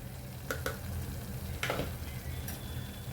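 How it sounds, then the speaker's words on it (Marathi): Spices being stirred into dal makhani in a pan with homemade red chilli powder and garam masala, giving a steady close sizzle with a few brief scraping strokes of the spoon against the pan, no talking. "छान मिक्स करून घेऊया"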